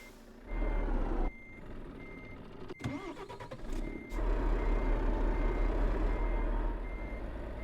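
A truck in Euro Truck Simulator 2 sounds regular reversing beeps over a steady low diesel engine rumble, with a few clunks and a brief engine surge midway, fairly close with no talking.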